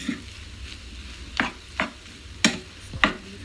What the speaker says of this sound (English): Mix, mix, mix, mix, mix. So everything is seasoned in.